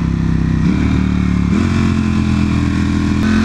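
A superbike's engine runs steadily while being ridden, with a loud, continuous mid-pitched drone and a few small shifts in pitch as the throttle changes, close and without voices.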